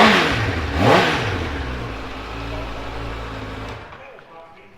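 A 2019 Kawasaki ZX10R sportbike with a standard exhaust and a few thousand miles revs up sharply near the start, then settles into a steady idle before cutting off, heard up close.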